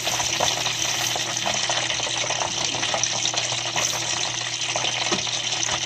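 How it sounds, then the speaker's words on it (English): Chicken wings fry in hot oil, giving a steady, loud, dense sizzle and crackle that holds throughout with no talking. "this oil is making a lot of noise"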